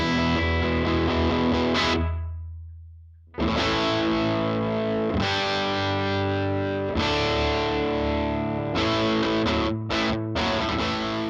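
Recorded distorted electric guitar with Mojotone pickups through a guitar speaker plays back in a studio, sustained chords and notes with heavy effects, pausing briefly after a fading chord before continuing, with short gaps near the end.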